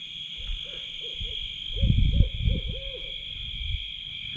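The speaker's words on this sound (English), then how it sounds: "And there's probably about 6 to 7 owls." Several owls hooting at night on a farm with cattle, one hooting close by with a run of repeated low calls, others fainter in the background, over a steady high insect drone.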